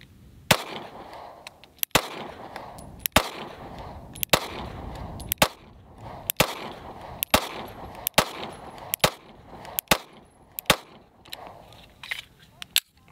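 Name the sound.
Springfield Hellcat pistol firing its first rounds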